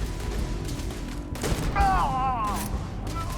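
Gunfire in Starfield while floating in zero gravity: a few sharp shots crack over a low ambient rumble, followed by a warbling electronic sweep, with a voice briefly audible underneath.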